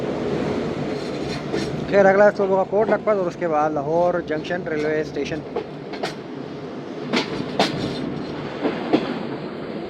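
Musapak Express train rolling along the rails at night, a steady rumble with a few sharp clicks and squeals, under a voice narrating throughout.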